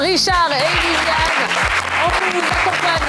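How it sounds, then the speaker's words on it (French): A TV game show studio audience applauds loudly and continuously, the dense clapping running the whole time beneath a host speaking with strong inflection. "On vous applaudit très très fort"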